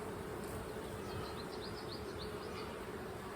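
Honeybees crowded inside an open hive box, a steady dense buzzing drone filling the whole clip with no talk.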